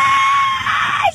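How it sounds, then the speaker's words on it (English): A child at a family picnic lets out a loud, sustained high-pitched scream lasting about a second, close and alone, rising sharply at the end. "Scream!"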